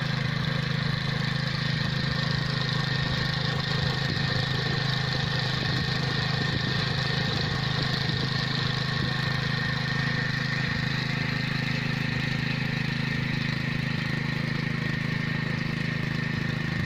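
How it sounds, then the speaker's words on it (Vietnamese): A tiller-ridger machine powered by a Mitsubishi petrol engine runs steadily, a loud continuous engine drone with a constant pitch from start to finish and no voices. "Cái máy đang chạy trên hình đây là máy sử dụng động cơ xăng Mitsubishi."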